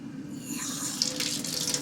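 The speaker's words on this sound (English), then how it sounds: "so I just use water out of the hot tap" Water streams steadily from a hot tap into a sink, a continuous hissing splash with a few brighter spatters near the end.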